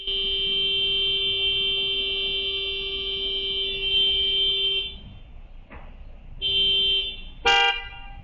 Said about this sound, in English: the driver of the black Honda started honking at the car in front